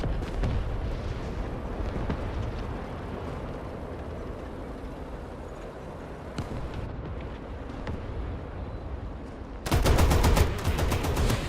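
Battle din from the video game War Thunder, with an enemy tank firing amid continuous rumbling gunfire and engine noise, ending in a loud, dense burst of close automatic fire; no voices.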